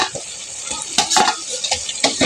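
Spice paste being stir-fried with fried potatoes for a Bengali fish curry, heard as a close run of spatula scrapes and clinks over a steady oily sizzle, with no talking.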